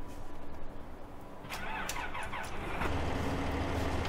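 A Claas tractor engine cranks and starts in Farming Simulator 15, with a starter whir followed by the engine catching into a steady low rumble that grows louder and settles into a continuous idle.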